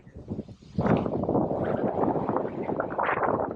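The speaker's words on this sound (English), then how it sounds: "Man, it's windy today." Wind gusting across a farm pond near a dam, a broad rushing roar with heavy microphone buffeting that swells after a quieter start and stays loud and steady throughout.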